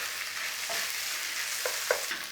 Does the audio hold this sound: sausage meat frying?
yes